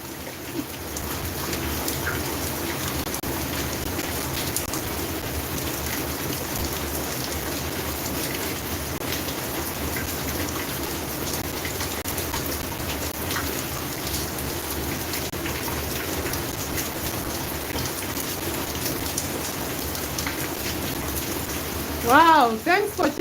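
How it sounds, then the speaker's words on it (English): Heavy rain pours steadily over an Indiana backyard garden at night, a dense, constant hiss throughout with a brief louder burst near the end. "It's raining heavily."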